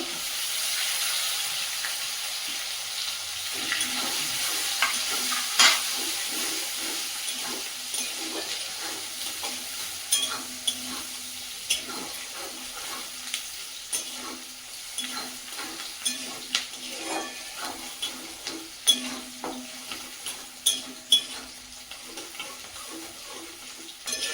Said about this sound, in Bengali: মশলাগুলো ভালো করে ভাজা হয়ে গেছে